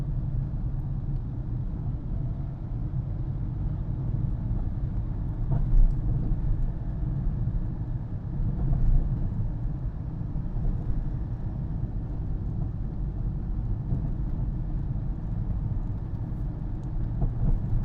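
Car cruising in third gear through city traffic, a steady low engine rumble heard from inside the cabin, even and continuous throughout with no talking.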